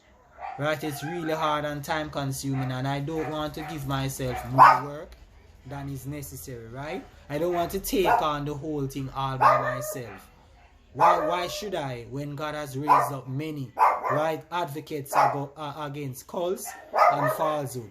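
A dog barks in short bursts near the microphone, scattered between and under a man's steady speech.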